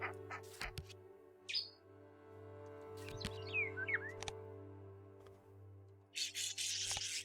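A kinglet's song of thin, high chirps and quick rising notes, faint and scattered over a steady low hum, with a few soft rubbing and scraping noises around them.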